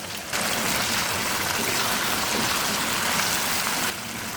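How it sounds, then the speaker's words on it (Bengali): Pangash fish curry gravy with green chillies simmering on a stove, a steady broadband bubbling hiss that holds evenly for several seconds, close and moderately loud, with no talk. "কতটুকু পরিমাণে ঝোল রাখবো তা বুঝে নিয়ে আমি এখন জাল দিচ্ছি।"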